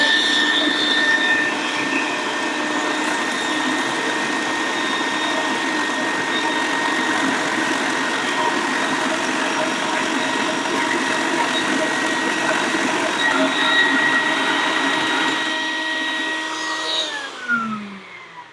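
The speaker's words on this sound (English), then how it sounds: "The vacuuming actually works better with the mill running," A mill grinding RAM chips runs steadily with a loud, even whine and hum while a vacuum with a cyclone separator pulls out the powder; both stop near the end.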